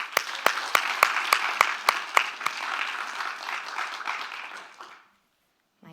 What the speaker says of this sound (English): Let's give one more round of applause for Ash.